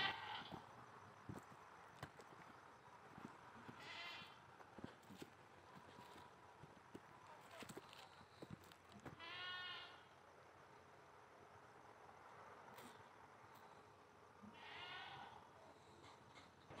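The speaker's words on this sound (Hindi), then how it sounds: "और सामने ये बकरी की आवाज़ आ रही।" A goat bleats in short nasal bursts at a distance outdoors at night, three or four calls spaced several seconds apart over a faint rustling, insect-filled background.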